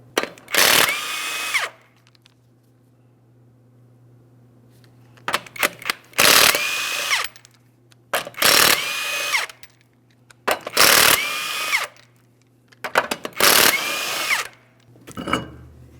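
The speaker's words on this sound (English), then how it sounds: "we're going to remove all 5 of our 21mm lug nuts and the wheel." A power tool spinning off the 21mm lug nuts from a 2003-2008 Toyota Matrix wheel: six loud bursts of an impact tool, each about a second long with a whining rattle, separated by short pauses and clicks, up close.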